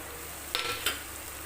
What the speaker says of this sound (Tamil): இப்போ சீரகம் பூண்டு போட்டுக்கலாம்.